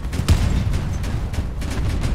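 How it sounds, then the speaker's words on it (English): A cannon shot rings out in the vehicle combat game Crossout, a single loud boom near the start followed by rumbling battle noise and low continuous engine drone. "like a cannon shot from somebody"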